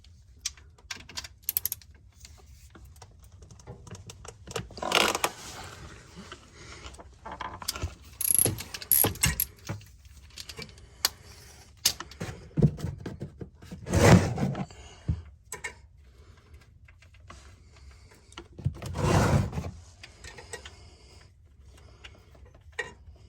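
A ratchet with a 15mm socket loosens the oil drain plug on a Ford Expedition, giving close clicking pawl bursts in irregular spurts with clanks and pauses between them, and no one speaking.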